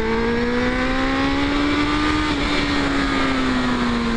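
A Suzuki Bandit 600 motorcycle engine drones steadily while riding, loud and close, with a smooth sustained hum and slowly shifting pitch throughout.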